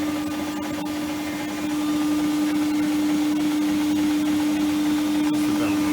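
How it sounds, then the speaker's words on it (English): A running machine at 300 RPM drones steadily, a constant motor hum with a faint rhythmic whir and ticking from a drive belt, no voices. "we're beginning to hear a little bit of belt noise."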